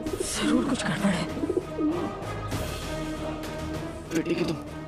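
Many pigeons coo in a deserted market, soft rolling calls coming in short bursts through a thick, busy background, with a low rumble and some clattering in the middle.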